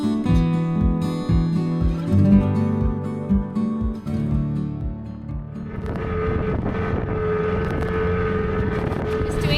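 A dinghy's small outboard motor drones steadily while the boat thumps over waves off Mexico, then the engine note rises and wind rushes across the microphone.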